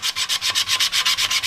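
Hand sanding a powder-coated motorcycle wheel with a sanding stick, a close, loud rasping scrape in a quick regular back-and-forth rhythm of about a dozen strokes, heard alone.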